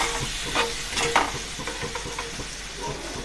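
Masala-coated vegetables for paneer tikka shallow frying in a pan, a soft constant sizzle with a few brief stirring scrapes, close but fairly quiet and without speech.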